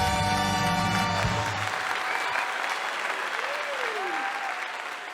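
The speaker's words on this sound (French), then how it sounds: "On les applaudit bien fort, s'il vous plaît." Live talk-show audience clapping loudly to welcome guests on stage, dense applause fading gradually toward the end while sustained musical tones ring out at the start and cut off.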